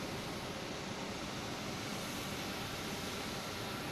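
A plane taking off at Boston Logan International Airport on an early morning, a dense, loud, steady engine roar filling the whole clip without a break.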